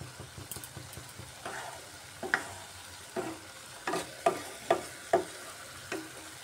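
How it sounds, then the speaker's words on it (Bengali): Egg kosa with chana masala cooks in a pan with a little water, giving soft sizzling under a series of distinct scraping stir strokes that grow more frequent and sharper toward the end. "একটু সামান্য জল দিয়ে ফুটিয়ে নেব।"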